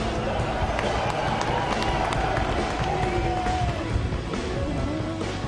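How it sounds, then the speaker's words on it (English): Spectators in the grandstands cheer as the race leader in a Lexus IS-F passes by in Gran Turismo 5, a continuous loud crowd roar with engine whine sweeping through the mix. "The crowd goes wild for the defending champion, who passed the grandstands in first place"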